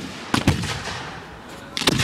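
Fireworks bursting at an outdoor show, with a few sharp, loud bangs spaced apart and crackling tails over a steady background hum of the crowd.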